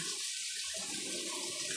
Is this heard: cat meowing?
no